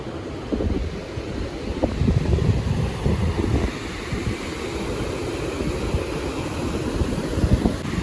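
Strong wind buffeting the microphone over the roar of surf breaking on the shore at Pantai Mas Cetu beach, continuous and loud throughout.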